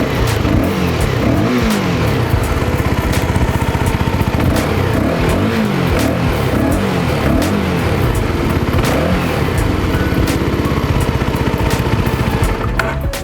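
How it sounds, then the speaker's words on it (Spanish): A CFMOTO 250SR motorcycle engine idles loudly up close and revs repeatedly, the pitch climbing and dropping in a series of throttle bursts. "mientras la moto está encendida y de paso escuchemos el sonido de su"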